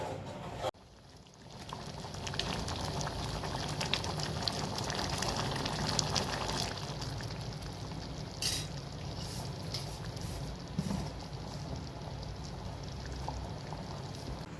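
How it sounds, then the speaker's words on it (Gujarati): Green moong masala curry, made with rice starch water, simmers in a pot with a steady bubbling and gentle crackle, plus a soft clatter early on and occasional louder pops. "હવે આ બધું 10 થી 15 મિનિટ માટે ઉકળવા દઈશું"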